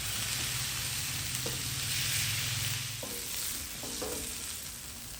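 Meat sizzles steadily in a hot paella pan, a continuous close frying crackle with a few soft scrapes and clinks of stirring and no talk.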